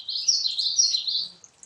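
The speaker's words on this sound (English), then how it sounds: "You can hear the birds around here." A bird outdoors gives a bright, high, rapid chirping trill, loud and close, lasting over a second before fading, with no talking.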